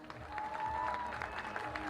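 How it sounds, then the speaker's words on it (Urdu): An audience claps at a national innovation awards ceremony in Islamabad. Dense, steady applause fills the hall at a moderate distance, with a brief voice over it. "Round of applause, ladies and gentlemen."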